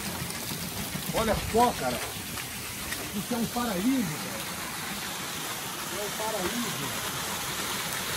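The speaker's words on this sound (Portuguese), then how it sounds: "Olha a cachoeira aqui, filho. Dá pra filmar a cachoeira ali?" A countryside waterfall in the interior of Nova Trento, Santa Catarina, sends out a continuous rushing hiss of falling water, steady from start to finish, while people talk briefly over it.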